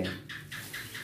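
A canary chirps in a series of five short, evenly spaced bursts close by, with a low steady hum running underneath throughout.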